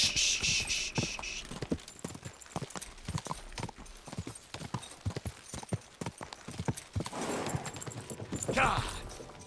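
Horse hooves clip-clop on the ground in the video game Kingdom Come: Deliverance II, a steady walking beat of close hoofbeats with game sounds and a brief burst of noise near the end.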